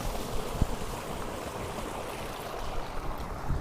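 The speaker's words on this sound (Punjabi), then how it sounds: "ਤੁਸੀਂ ਦੇਖੋ ਵੀ ਬੰਬੀ ਚੱਲਦੀ ਹੈ ਬਹੁਤ ਵਧੀਆ ਪਾਣੀ ਹੈ 4 ਇੰਚੀ ਫੁੱਲ ਡਿਲੀਵਰੀ ਪਾਣੀ ਦੀ ਭਰੀ ਕੱਢਦੀ ਹੈ" Water gushes steadily from a running borewell pump with a full 4-inch delivery on farmland, a continuous rushing flow with a single sharp knock early on and no voices.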